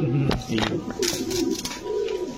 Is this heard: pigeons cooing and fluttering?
yes